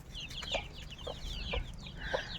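Chickens cluck repeatedly at close range, short rhythmic calls over a low background hum, with no talking.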